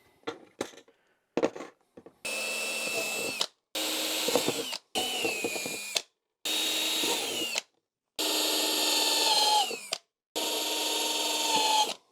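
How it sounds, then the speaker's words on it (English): Power drill boring holes in a part for a 2006 Yamaha YZ250 dirt bike, six loud close bursts of whirring drilling lasting one to two seconds each, separated by short pauses, after a few light knocks. "I drilled them a little bit bigger than what they need, so I have a little bit of play."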